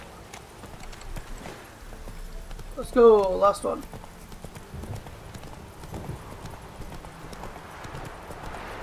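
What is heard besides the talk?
horse galloping hooves in The Witcher 3 video game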